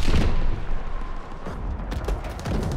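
Incoming gunfire and artillery on a World War II battlefield in Call of Duty: WWII, a dense steady roar of blasts and shots with sharper cracks breaking through, loud and continuous.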